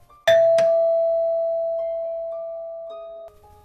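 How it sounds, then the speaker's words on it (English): A single doorbell chime, a sharp ding with a click, rings out close and then fades slowly over about three seconds. "someone was ringing the doorbell a lot, very early in the morning that day"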